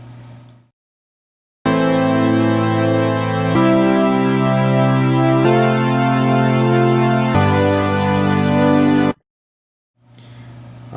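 Bright, buzzy saw-wave synthesizer chords with stereo spread sustain in four even blocks, changing every couple of seconds, with a low kick drum thump underneath, set between brief quiet gaps.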